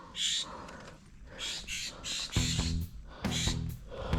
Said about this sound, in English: Wow, that bird's pissed.